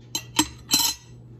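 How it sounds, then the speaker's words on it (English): A metal lid is set onto a 1959 Corning-ware P 108 Starburst percolator, three quick close clinks and rattles within a second, then quiet. "We'll put our lid on."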